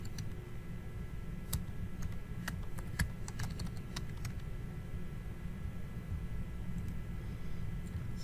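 Username and password being typed on a computer keyboard, a quiet scattered run of light key clicks over a steady low background hum.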